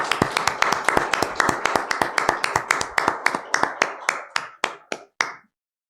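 Church congregation applauding together at the close of a Sunday service, a burst of dense claps that thins into a few scattered, separate claps before stopping.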